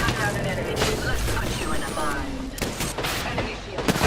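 Gunfire in the Apex Legends video game, bursts of shots and rattling fire layered over a dense game soundscape, with a player's voice talking over it.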